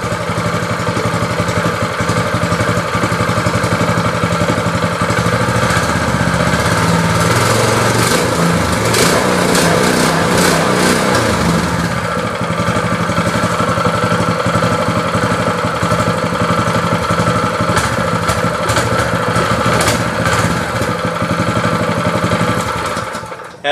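A Greyhound 6.5 hp small gas engine runs steadily and loudly throughout, with a constant chugging drone that barely changes in pitch over more than twenty seconds.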